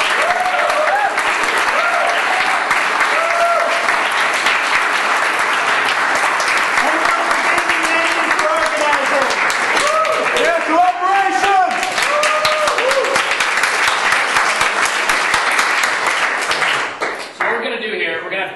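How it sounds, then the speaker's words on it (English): Sustained applause from a school class audience for student debaters after an economics debate, dense clapping running steadily for about seventeen seconds with voices calling and talking underneath before it tapers off at the end. "let's give a huge round of applause for everyone"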